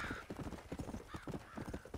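A horse in the video game Red Dead Redemption clip-clops along at a quick, uneven trot. The hoofbeats sound close, and a short whinny rises briefly at the start.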